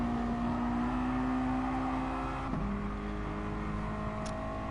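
Mazda MX-5 race cars run at Brands Hatch, a steady engine drone with one car's note shifting midway as it changes gear or passes.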